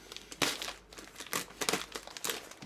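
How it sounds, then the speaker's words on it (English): Outer plastic bag being pulled off a muslin bag holding a white wine kit's fruit, giving close, loud bursts of crinkling and crackling in uneven waves. "an outer plastic bag, which we remove,"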